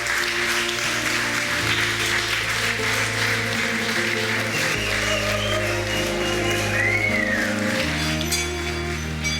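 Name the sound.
guests applauding the newlyweds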